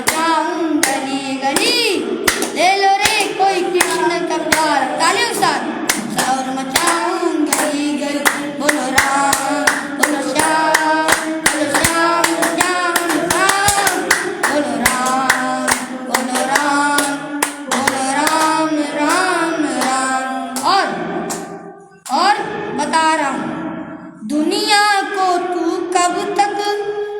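Devotional bhajan singing at a Shrimad Bhagwat Katha gathering, a voice and music carried along by steady rhythmic hand clapping from the audience, beat after beat, with a brief dip near the end before the clapping resumes.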